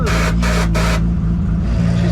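A Toyota Supra engine revving on a downshift: three quick, loud, close throttle blips in the first second over a steady deep engine drone.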